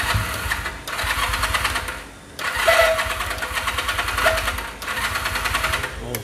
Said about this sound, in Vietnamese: Con này không biết còn xăng không, để nổ thử anh em mình nghe.